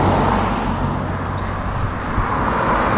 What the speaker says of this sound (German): Guck mal, wie viele Autos da kommen.